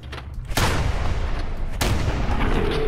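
Two loud, sharp shotgun blasts in Fallout 4 about a second apart, each followed by a sustained noisy rumble of in-game ambience.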